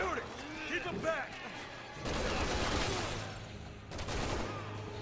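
Gunfire in Resident Evil 6, heard as loud, dense bursts of rapid shots and crashing impacts with game effects, while a voice talks over the action.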